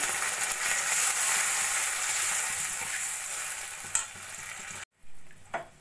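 Onions frying with ginger and garlic for a parshe fish curry, a dense continuous sizzle with stirring, then an abrupt cut to near silence and a few faint clinks near the end.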